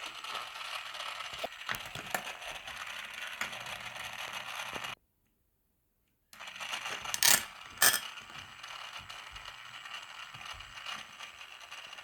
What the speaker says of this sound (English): It's a mixer. Let me show you how it works.